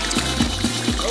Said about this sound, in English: The piston is pushing the water up.